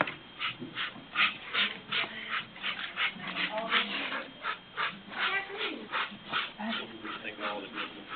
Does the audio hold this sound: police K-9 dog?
yes